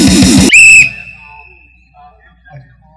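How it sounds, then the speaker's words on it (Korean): A sharp, loud whistle blast cuts in after a man's speech at a political talk, sounding once with a shrill sustained tone that fades into quiet room noise. "갑자기 웬 호루라기 소리"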